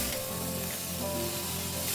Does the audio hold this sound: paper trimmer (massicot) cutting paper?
no